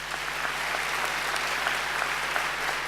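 Steady applause from a graduation ceremony audience at Macquarie University, a continuous wash of many hands clapping, moderately distant and even throughout.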